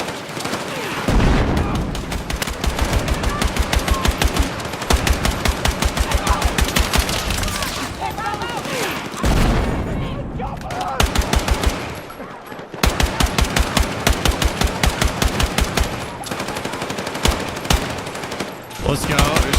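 Rapid automatic gunfire rattles in long, loud bursts through a shooting game, with short pauses between volleys and occasional heavier booms, while players' voices come through under the shooting.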